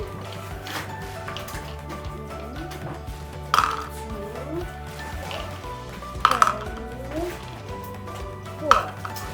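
Small coloured balls drop into pots in an early-years classroom activity, giving a few sharp clacks spread several seconds apart over a steady room hum, with voices in the background.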